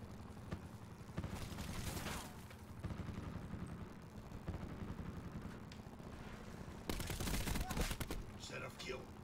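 Gunfire in a multiplayer shooter video game with zombies, rattling automatic bursts and booms recurring at moderate to low loudness, heaviest near the end, with a voice speaking over the action.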